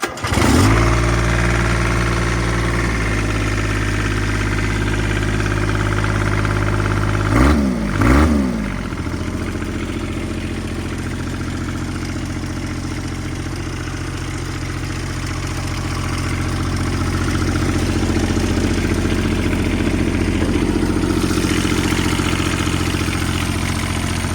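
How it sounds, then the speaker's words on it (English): A 3-cylinder Kubota diesel tractor engine running on homemade biodiesel cranks briefly without glow plugs, catches and fires up, then settles into a steady, rumbling idle that continues close by. "the engine should start without glow plugs. So let's see if she'll fire off."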